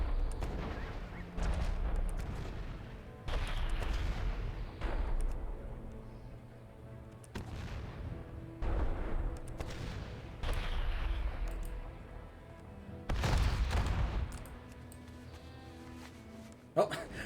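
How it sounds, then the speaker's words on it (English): Several loud booming cannon blasts strike at intervals, heavy and close, in World of Warcraft against pirates, amid game background noise and someone talking over parts of it. "then the cannon exploded for some reason"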